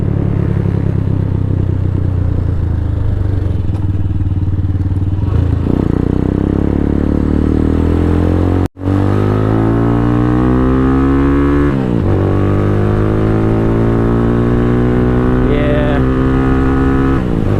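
Venom X22R motorcycle engine droning steadily while riding, with rising and falling harmonic tones as the rider accelerates and shifts, a brief dropout midway, and a short spoken word over the engine.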